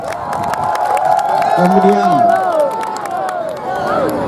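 A large crowd of university students cheers and whoops on a field at an orientation closing ceremony, a loud continuous roar of shouting voices with scattered claps, while someone briefly speaks over it.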